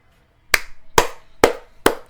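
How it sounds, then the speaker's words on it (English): Four sharp, evenly spaced hand claps ring out alone after a brief silence, each one crisp and close with a short decay. "Standing ovation, clap it up."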